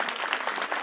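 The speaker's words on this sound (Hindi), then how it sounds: "जितने पुरुष यहाँ पर खड़े, एक बार जोरदार ताली हमारी माता बहनों के लिए लगा दो यार" Crowd applause at a public gathering, dense continuous clapping throughout a brief moment, fairly loud and steady.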